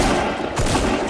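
Dense, loud gunfire in the video game Fortnite: a continuous burst of rapid shots filling the whole moment, with no clear gaps between them.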